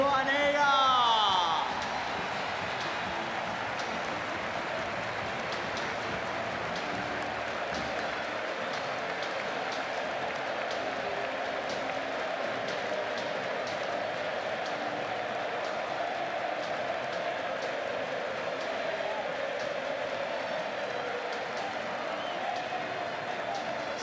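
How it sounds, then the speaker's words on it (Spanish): A large stadium crowd applauds during a farewell tribute match, a broad steady wash of clapping and crowd noise that stays loud and continuous throughout, with a brief sweeping tone near the start. "Se cae en aplausos esta noche el coloso."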